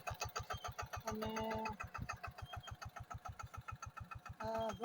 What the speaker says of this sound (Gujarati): આ જોગંદર જો ટ્રેક્ટર લઈને જાય છે હવે